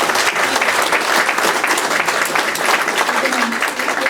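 A full room bursts into loud, sustained applause at a political forum, the clapping dense and steady throughout with a murmur of voices beneath.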